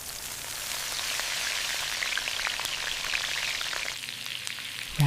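Skirt steak marinated in lime and cumin sizzles steadily in a hot pan for fajitas, a dense crackling hiss with scattered pops that holds close and even throughout, no voices.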